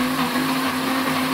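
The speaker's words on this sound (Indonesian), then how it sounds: "Lengkuasnya ini bisa diparut, bisa juga di blender ya moms." An electric blender grinds galangal for a spice paste with a loud, even, continuous motor whir and no pause.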